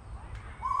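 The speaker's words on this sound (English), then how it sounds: "Hopefully you can get a nice little view of this fig bird, male fig bird there." A male figbird at a wildlife park's freshwater exhibit gives a short, clear call near the end, heard over a low background rumble.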